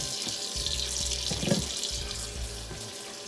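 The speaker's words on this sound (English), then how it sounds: "I'm just cleaning off the chicken breast." Tap water runs steadily into a kitchen sink while raw chicken breast is rinsed, a close continuous splashing hiss with brief shifts as the meat is moved under the stream.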